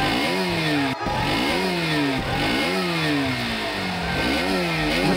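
Cartoon motorbikes pull in with engines revving in repeated rising and falling sweeps, loud and close, with a brief sharp break near the start.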